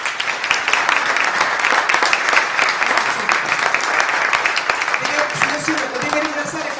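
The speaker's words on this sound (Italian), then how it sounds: "Vi chiedo di fare un grande applauso ad Elisa Guidetti." Large audience applause at an Italian book presentation, sustained dense clapping at close range with a few voices mixed in toward the end.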